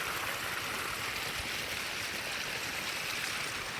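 Irrigation water, turned on to flow into a groundnut field, rushes in a steady, even stream with no breaks or talk.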